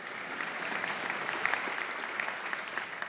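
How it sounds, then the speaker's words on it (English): An audience at a 2014 State of the City address breaks into applause mid-speech, a dense, even patter of many hands clapping that carries on steadily with no talking over it. "you can applaud for that"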